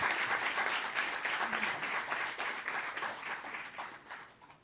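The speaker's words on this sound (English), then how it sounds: "may we have a big round of applause for all the winners" A seated audience at an awareness-day ceremony gives a round of applause for the prize winners, thick, close clapping that swells and then gradually thins and fades toward the end.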